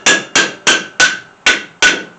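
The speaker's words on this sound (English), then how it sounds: "I'm going to grab a hammer and just pop this bottom off." A hammer knocks the stuck bottom off a strut on a 2012 Mustang GT during a strut swap, six sharp metallic blows at a steady, slightly uneven rhythm, loud and close with ringing decay and no voices.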